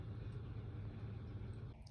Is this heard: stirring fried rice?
no